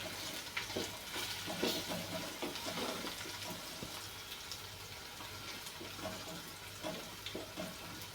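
Garlic-ginger paste sautéing in a pan makes a quiet, steady sizzle, broken by irregular scraping and stirring clatter, fairly close, with no one speaking.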